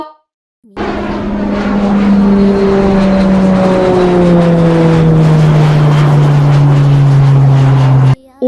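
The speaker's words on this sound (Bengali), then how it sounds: "ওই দেখো সবাই এই বিমানে করে রমজান চাচা" Cartoon airplane flying overhead, a loud steady engine drone with a slowly falling pitch that holds for about seven seconds, mixed with a musical tonal layer, with no talking.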